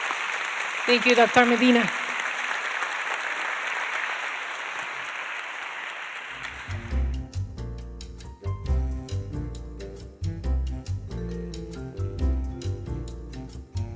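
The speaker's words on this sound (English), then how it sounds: "So a round of applause." Clapping from an audience at a public health conference session runs for several seconds, accompanied by brief speech, then stops and gives way to rhythmic background music.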